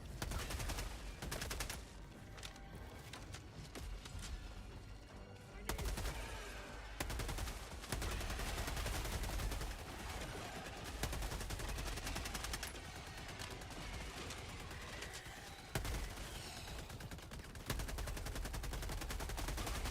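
Rapid sentry turret gunfire in the Helldivers 2 video game, sustained bursts of automatic fire with short pauses, loud and dense throughout with battle noise behind.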